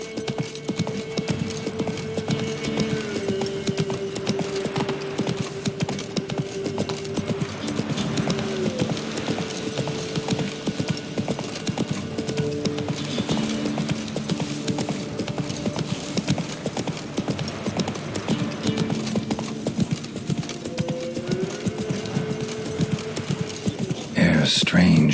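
Roach the horse gallops in The Witcher 3, with dense, rapid hoofbeats running the whole way over game music and ambience, and a voice speaking briefly over it.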